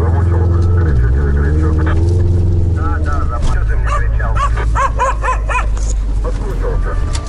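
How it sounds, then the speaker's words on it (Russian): Several dogs barking and yelping in a dirty yard or courtyard, the barks rising in a quick, overlapping series in the second half over a steady low engine-like drone, with someone talking throughout. "Тут прям собачарня какая-то."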